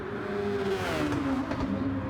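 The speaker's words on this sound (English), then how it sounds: "Man, these cars are fast in these tracks." Race cars in a Super Formula racing game on a Tokyo track, engines droning at high revs with pitch sweeping as they speed past, a steady mid-level whine with no speech.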